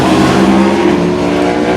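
A racing motorbike engine with its exhaust baffles removed roars loud and close at a race circuit, holding a steady, raw, sustained drone.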